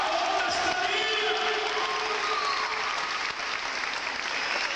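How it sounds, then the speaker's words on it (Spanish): A church congregation applauds together in a sustained wash of clapping that stays loud and steady throughout, with scattered voices and cheers mixed in. "den un aplauso a la sangre de Cristo, den un aplauso al sacrificio de Cristo"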